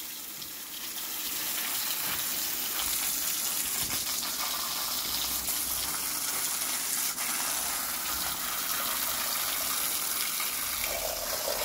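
Water spraying from a jet sprinkler, a constant loud hiss and gush that builds in the first second and then runs steadily with no talk over it.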